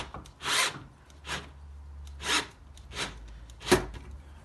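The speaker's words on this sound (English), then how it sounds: "now it's just a matter of drilling it in" A power drill whirs in several short bursts into a wooden post, each lasting about half a second, separated by pauses, close by and moderately loud.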